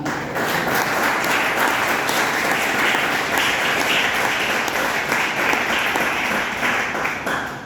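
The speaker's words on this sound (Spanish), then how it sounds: "Ríndele un aplauso al Señor." A congregation applauds in praise of the Lord during a Spanish-language sermon, producing a continuous, full wash of clapping that stays loud and even from start to finish.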